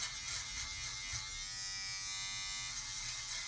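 A steady close-up electric trimmer buzz as a beard is cut down into a chin strap, continuous and even with slight shifts in tone.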